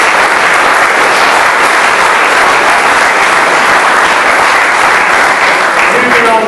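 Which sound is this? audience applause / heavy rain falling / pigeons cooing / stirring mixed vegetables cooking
audience applause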